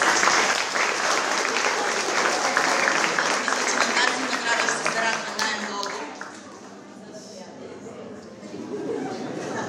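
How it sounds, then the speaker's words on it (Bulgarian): Applause fills a hall at a children's contest award ceremony, honoring a four-year-old singer, as a loud, dense clapping wash with crowd chatter mixed in, then dropping to a quieter, thinner patter after about six seconds. "Аплодисменти за нея!"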